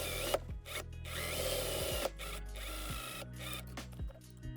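Home sewing machine stitching a cotton dress hem: a steady motorized whir in several runs, broken by short pauses and quick stops and starts, close and fairly quiet.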